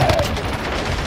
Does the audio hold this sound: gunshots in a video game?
yes